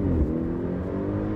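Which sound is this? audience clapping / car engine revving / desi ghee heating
car engine revving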